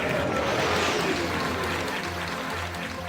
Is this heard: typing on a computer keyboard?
no